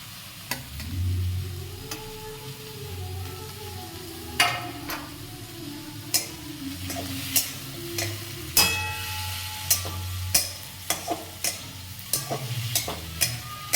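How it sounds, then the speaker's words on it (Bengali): Chicken being stirred in a pan with capsicum and chili, cooked in little oil: a steady low sizzle runs throughout, punctuated by a dozen or so sharp scraping clicks of the spoon against the pan at uneven intervals. "ভালো করে নেড়ে নেবো।"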